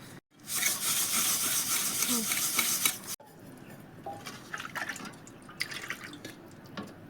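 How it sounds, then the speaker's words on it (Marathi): A burnt milk pot is washed with bath soap and water: a loud rush of running tap water for about three seconds, then softer scattered splashes, drips and scrubbing clatter of the metal pot. "अंघोळीच्या साबणीने पूर्ण पातेलं घासून घेणार आहे आता"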